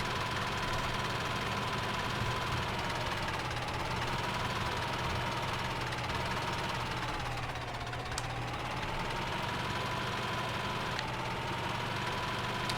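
A tractor engine in Farming Simulator 17 drones steadily while pulling a mixer, a continuous mid-pitched hum whose pitch dips and rises slowly as the load changes, with no talking.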